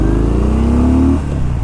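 A 2015 Harley-Davidson Street Bob with the 103 engine rumbles in a steady, deep, close tone, then drops in pitch as the throttle eases near the end.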